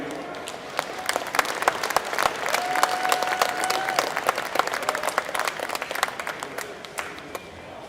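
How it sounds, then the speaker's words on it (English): A large crowd applauds steadily at a lightweight Canadian horse pull finals, dense clapping swelling and holding for several seconds with faint voices mixed underneath. "I think we can give them all a big, big round of applause, don't you?"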